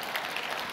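Brief burst of audience applause from a crowd at a CEO panel, steady broadband clapping filling the short moment with no speech over it.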